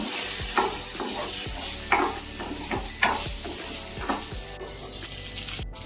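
Garlic and green chillies sauté in a pan for a ridge gourd sambar, a loud continuous sizzle broken by regular scraping stirs about once a second, close by and with no talking.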